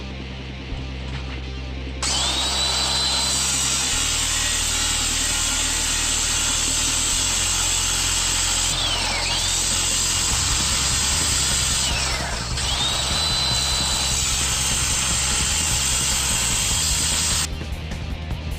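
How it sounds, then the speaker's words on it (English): A power tool blade dips into metal to cut a notch for a telescope build, a loud, continuous high grinding whine that runs steadily for about fifteen seconds with slight shifts in pitch, close up. "I'm going to just try to dip the blade in there and just recess it and just get this piece off"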